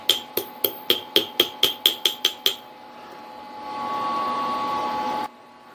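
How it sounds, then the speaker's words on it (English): A small brass hammer taps a key into place on a mini lathe, about ten sharp metallic strikes in a steady rapid rhythm, close and loud, followed by a lingering whir of machinery or room noise. "I have a little brass hammer."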